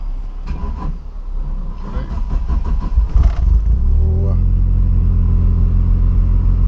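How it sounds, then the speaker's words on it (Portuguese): A Vectra GSi Turbo with a C20XE engine and FT450 tuning starts up and settles into a deep, steady idle rumble close by, after someone speaks over the first seconds. "mostrar pra vocês agora o motorzinho ligado aqui"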